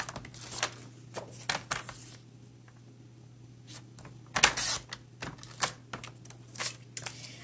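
Cardstock being cut for a handmade card at a stamping craft table, a string of short, faint snips and clicks with quiet pauses in between.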